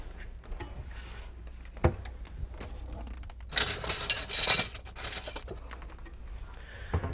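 Crushed walnuts being mixed into a truffle mixture in a bowl, with soft scraping and clinking of a utensil against the bowl, louder in the middle stretch, and no talk.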